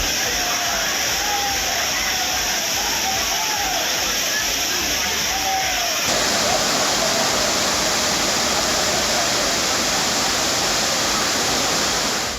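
Heavy water crashing down at the Courtallam falls in Tenkasi, swollen after rain, a loud steady roar of broadband rush with a brief tonal voice-like streak in the first half, then an unbroken torrent.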